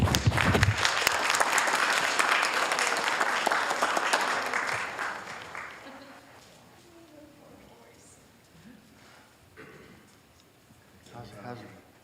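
Audience applause at a city council meeting, loud and sustained for about five seconds before fading into quieter room murmur and scattered voices.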